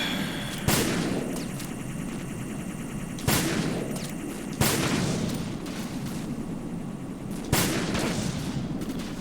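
Gunshots in Metal Gear Solid 2: four sharp, loud single shots spaced a few seconds apart over a steady background of game ambience and hum.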